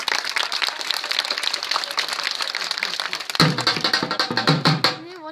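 Crowd applause at a roadside bamboo balancing show near a temple, steady dense clapping that runs throughout, with louder bursts and some voices mixed in toward the end.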